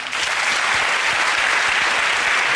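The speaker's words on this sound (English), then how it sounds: "So please join me in a round of applause for our stars and the pleasure they bring." A TV panel-show studio audience breaks into applause, a dense, loud and steady wash of clapping that holds evenly throughout without any talk over it.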